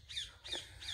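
Three harsh, quiet squawks from birds in the countryside on a cycling route between Jagraon and Mehal Kalan, evenly spaced and heard at a distance with no voices.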